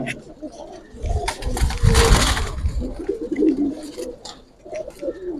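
Silver pankhi military pigeons cooing in a loft or market, steady low throaty coos repeating over several seconds, fairly close and loud, with rustling and background voices.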